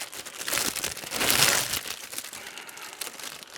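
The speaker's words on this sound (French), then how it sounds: "En vrai, je vais déballer les deux en même temps, je pense." Plastic wrapping crinkles and crumples as two Warhammer Stormbringer magazine issues are unwrapped together, a close, continuous rustle peaking briefly partway through with no talking.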